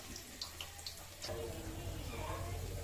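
Coconut milk pours into a cooking pan of catfish with ginger, a steady liquid pour that thickens into a continuous wash of sound after a few faint clinks.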